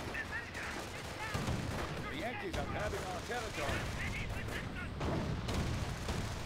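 An Ostwind anti-aircraft tank in a video game battle fires repeated gunfire bursts amid booms and chaotic combat noise, with voices talking over the steady din throughout.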